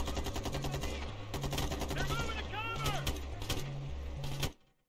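Rapid automatic gunfire from light machine guns in Ghost Recon Future Soldier: a dense, sustained rattle of bursts under a steady rhythmic game score, with talk, lasting until it cuts off abruptly near the end.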